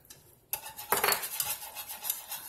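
A utensil scrapes and clinks against a pot while a scalloped potato mixture is being stirred, a few irregular close scraping strokes after a brief quiet start.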